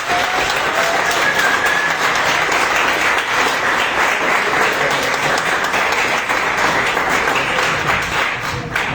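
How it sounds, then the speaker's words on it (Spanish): Sustained audience applause at an engineering faculty lecture on artificial intelligence, a dense, loud wash of many hands clapping that stays steady for the full stretch with no talk over it. "Fuerte aplauso, muchísimas gracias."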